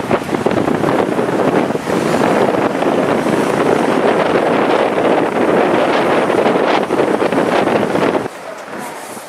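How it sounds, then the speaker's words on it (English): Strong wind roars across the open deck of a ferry on cold, choppy water, a steady loud buffeting against the microphone that drops away abruptly near the end. "it's a lot windier on the other side of the ferry"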